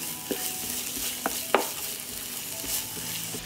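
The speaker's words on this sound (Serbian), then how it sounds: "Mast se ugrejala i dodat ću crni i beli luk i propržit ću." Steady frying sizzle of onion and garlic in lard, with a few sharp clicks and scrapes of stirring scattered through, close and fairly quiet, no voices.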